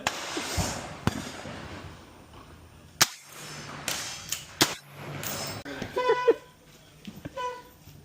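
Gunshots at an outdoor Texas gun range, several sharp cracks spaced a second or two apart with people talking and laughing between them.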